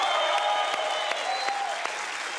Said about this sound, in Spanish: fuerte aplauso a Papito Dios